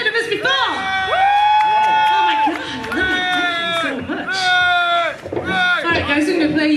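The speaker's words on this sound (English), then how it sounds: "Give us a cheer if you've heard of us before." A crowd at the Clarence Park Festival cheers for a live band, with loud overlapping whoops, shouts and yells rising and falling in waves close by, nearly continuous throughout.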